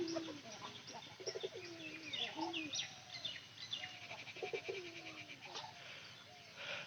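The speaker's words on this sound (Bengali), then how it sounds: "এই যে নতুন কবুতরের ডাক দেয়।" A young pigeon coos in soft, repeated low warbling calls, close and fairly quiet, with faint chirps and other birds mixed into the background.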